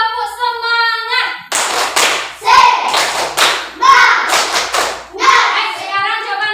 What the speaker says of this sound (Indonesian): coba kita tepuk semangat dulu supaya anak-anak ibu semangat semuanya